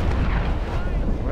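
Cannon fire from sailing warships in the naval battle game Naval Action, a dense, continuous low rumble of overlapping blasts with no clear gaps.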